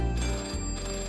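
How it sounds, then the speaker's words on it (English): Telephones ringing in an animated children's village setting, a steady electronic ring that carries through the short moment with a brief break midway, fairly loud and with no talk over it. "The phones were ringing again, all over Greendale."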